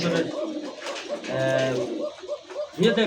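Fancy pigeons in a large collection coo in low, throaty, rolling bursts, with one drawn-out coo near the middle, while people talk nearby throughout.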